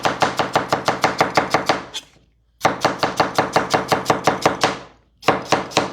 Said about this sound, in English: I'm gonna have some carrot, which I'm just gonna cut up now